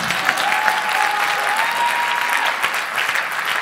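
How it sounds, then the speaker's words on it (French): A church congregation at a French-language service with a pastor breaks into loud, sustained applause, a dense wash of clapping that holds steady throughout. "Give him a good round of applause."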